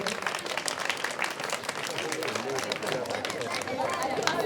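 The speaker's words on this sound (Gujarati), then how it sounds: "આપણે તાળીઓથી વધાવીશું" An audience claps at a primary school prize-giving ceremony, with dense sustained applause throughout, fairly close and lively, with crowd chatter underneath.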